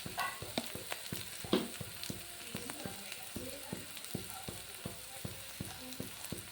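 Ground spices with turmeric sizzle and fry in a pan for a potol dish, a steady close crackle broken by rhythmic scraping strokes of a stirring spoon, with no voices.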